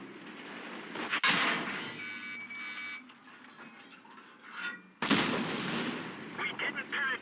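Tank gun shots in World of Tanks Frontline: two sharp, loud cannon blasts several seconds apart, each followed by a ringing tail, with quieter game noise and faint voices in between.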